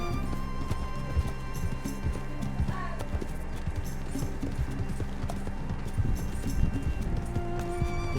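A horse gallops in Red Dead Redemption 2, its hooves drumming in a quick, continuous clip-clop under steady game music, with someone talking over the top.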